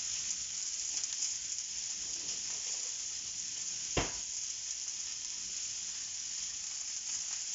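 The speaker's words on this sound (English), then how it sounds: "You just want to be very careful when you're frying it at very high heat" Chicken breast pan-frying at high heat gives a steady, soft hissing sizzle throughout, with a single sharp click or tap partway through and no talking.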